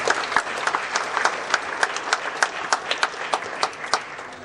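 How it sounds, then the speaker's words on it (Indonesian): An audience at a talk show applauds steadily, a dense wash of many hands clapping with a few sharper individual claps standing out. "Tepuk tangan untuk semua."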